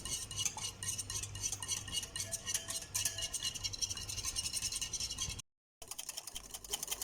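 Rapid, steady scraping of a hand whisk beating Milo dalgona mixture in a bowl, a busy rhythmic clatter that runs near-continuously, breaks off briefly, then resumes.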